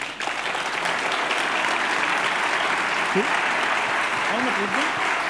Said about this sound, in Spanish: les agradezco el aplauso por, por adelantado